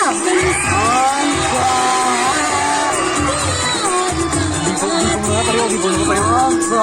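A school audience at a Ram Leela performance bursts into strong applause mixed with cheering and whoops, a steady loud crowd wash carrying across the whole stretch, with voices shouting over it.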